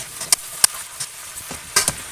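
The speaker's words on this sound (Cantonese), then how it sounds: "加入白菜，4湯匙米酒，半茶匙鹽，大火炒勻1分鐘。" Bok choy stir-fried with rice wine and salt in a wok over high heat, heard as sparse, separate clinks and scrapes of the spatula with a faint sizzle between them and no talking.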